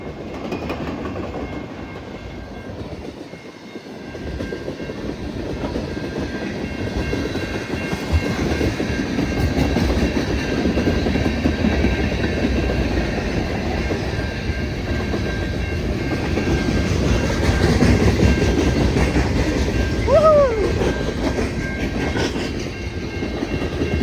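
A CN freight train rolls past a crossing at milepost 30.29, a steady loud rumble with wheel clatter building and holding throughout, with a brief horn-like tone late on.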